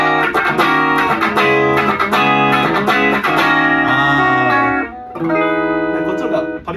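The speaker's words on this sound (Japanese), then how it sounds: "俺はちょっと生の方がなんかすごい音圧パリッとしてる感じ" Electric guitar played through an amp simulator at a rehearsal, a loud crisp distorted tone with rhythmic chords and sustained notes, brief pause near the end, no talking.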